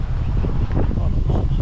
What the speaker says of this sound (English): that's windy. Yeah. Absolutely insanely windy